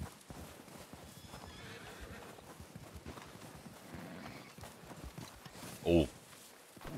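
Hooves clop steadily at a walking pace in Red Dead Redemption 2 Online, and near the end a horse gives one loud, brief whinny before the hoofbeats carry on.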